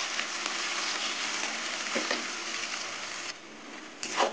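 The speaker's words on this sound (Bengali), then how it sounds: "এবার পেঁয়াজটা কিছুক্ষণ ভাজবো" Chopped onions with a little salt fry steadily in a pan, a continuous close sizzle with no voices, softening briefly near the end before flaring up again.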